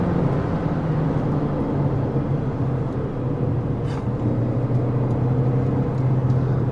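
A Volkswagen Saveiro Cross pickup's engine drones steadily from inside the cab, a low rumbling hum that swells slightly as it pulls forward, with no talking.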